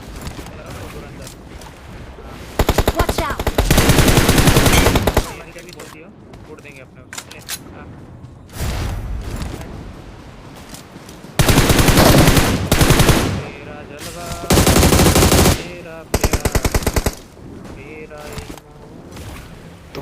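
Automatic gunfire in the mobile battle royale game BGMI on the Livik map, played on an iPhone 13, with several loud sustained bursts of rapid fire separated by quieter in-game sounds, close and dominant.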